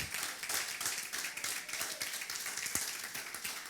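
Clapping rises from a Pentecostal Baptist congregation during a live Saturday worship service in Hamamatsu, a fairly quiet, even patter of many hands sustained throughout with no talk over it.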